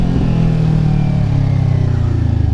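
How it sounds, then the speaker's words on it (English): A motorcycle engine revs in a quick throttle blip during a downshift, rising and then settling into a loud, close, throbbing idle. "We're just gonna blip the throttle."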